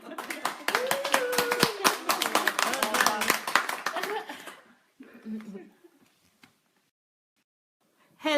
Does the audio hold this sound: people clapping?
yes